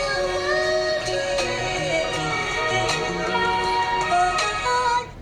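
A sampled music track, pitched up one semitone, high-passed and brightened, plays as a steady, airy loop of sustained tones with light rhythmic accents, with no talking.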